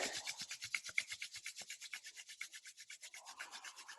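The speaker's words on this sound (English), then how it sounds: "Let's begin by rubbing our palms together." Palms rubbed briskly together at the start of a guided meditation, a quiet, steady run of rhythmic rasping strokes lasting about four seconds, alone with no talk.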